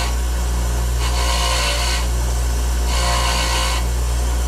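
A bench wire wheel cleans stainless steel bolts for a 1955 Chevy, motor humming steadily as two scraping, rasping passes of the bolt against the bristles rise and fall.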